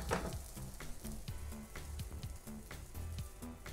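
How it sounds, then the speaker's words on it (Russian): A soft, steady sizzle of flatbread frying in a dry pan, with faint crackles and occasional light taps, no talking. "Жарим это все абсолютно просто на обычной сухой сковороде"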